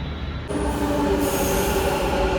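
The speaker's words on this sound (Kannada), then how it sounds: "ಬಂತು ನೋಡ್ರಿ ನಮ್ಮ ಮೆಟ್ರೋ" A Bengaluru metro train pulls into the station, its steady rumble rising as a sharp high-pitched wheel and brake squeal sets in and holds, loud and close with no talk.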